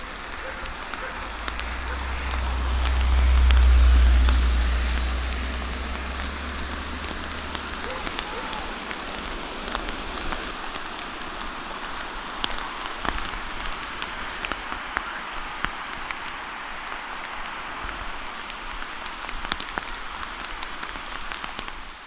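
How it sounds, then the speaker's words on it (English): Steady rain falls in Loyalsock State Forest, Pennsylvania, near a bridge on the Loyalsock Trail, making a continuous soft hiss with scattered drop taps. A low swell rises briefly near the start. "We're waiting for the rain to stop."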